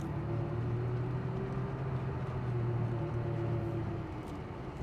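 A 1986 Porsche 911 driving, heard from inside as a steady low engine hum and road rumble, fairly quiet and even throughout.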